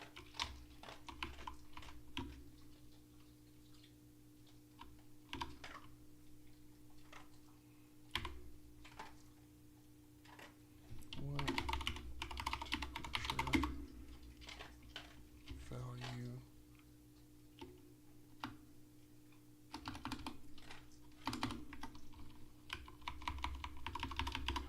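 Fingers typing on a computer keyboard while editing code, light quick keystroke clicks in irregular runs, close and fairly quiet over a low background hum.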